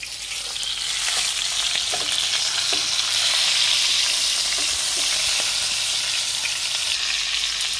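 A steak sizzles loudly and continuously in a hot frying pan in a rural seaside kitchen in New Zealand, a close, dense crackle with faint stirring and shifting sounds and no talk.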